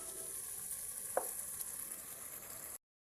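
Spices fry in oil for a fish curry, a faint, even sizzle with one light stirring knock, ending abruptly in silence.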